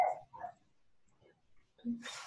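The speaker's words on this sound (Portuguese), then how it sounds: "Alguém tem um cão aí à porta." A dog barks at a door during a municipal council meeting, a few short, distant barks and yips heard faintly in a quiet room, with no talk over them.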